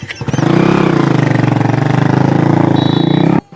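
A motorcycle engine runs loud and close, revving up from a start into a steady rapid throbbing idle for about three seconds before cutting off abruptly.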